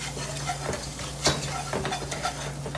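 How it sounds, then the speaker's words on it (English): A whisk scrapes and taps briskly as flour is worked into roast chicken drippings in a cast iron Dutch oven, a busy rhythmic clatter close by over a low background hum. "now we start whisking in earnest"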